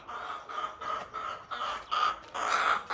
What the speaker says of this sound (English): Bully rooster, behave yourself.